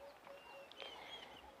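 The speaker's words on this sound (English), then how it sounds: "You can hear some birds in the background." Birds calling at Treehouse Dam in the open air, a few faint chirps and whistled notes scattered through an otherwise quiet outdoor scene, with no one talking.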